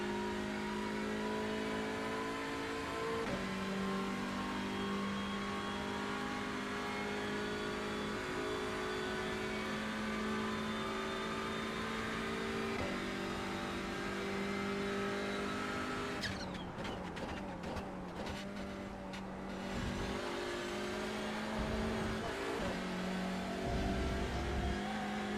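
A TCR race car engine in iRacing, simulated at Road Atlanta, drones steadily at high revs, loud and continuous, with gear changes and shifting pitch, then a burst of harsher revving and rasping noise near the end.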